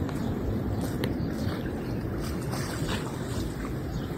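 Big sea waves roll in at La Prairie Beach, Mauritius, where they have cut the shoreline rocks into sharp points; a steady, loud, close wash of surf mixed with wind buffeting the microphone, with no voices.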